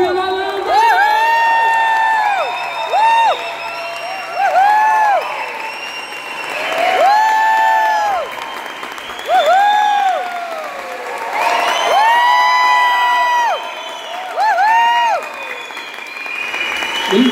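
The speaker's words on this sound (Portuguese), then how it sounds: "Quero que vocês aplaudam com muita força." A concert audience at a Brazilian music show applauds and cheers in loud waves, with whoops and high shouts rising over the clapping, swelling and easing several times.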